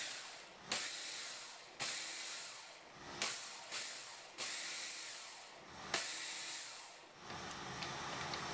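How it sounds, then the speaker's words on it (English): A kitchen blender whirs in repeated bursts, whipping a mixture until white and foamy, each pulse starting abruptly with a rushing hiss and cutting off, about six pulses in a row, fairly faint. "we're just going to put it in the blender. So blend it."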